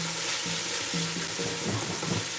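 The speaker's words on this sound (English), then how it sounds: "I must keep sauteing the onion until it's translucent" Chopped onion sautéing in a pan for charro beans, a steady broadband sizzle with intermittent stirring scrapes and clinks, fairly close and continuous with no talking.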